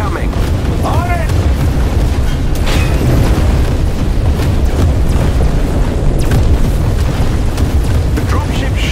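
Heavy booming artillery explosions fired from a dropship in the Marvel's Avengers video game, a dense, loud barrage of blasts and rumble running continuously throughout.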